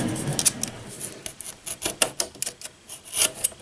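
A utility knife slicing slowly through small pieces held together with tape, a series of short, close scraping cuts in an uneven rhythm, fairly quiet, with no one talking.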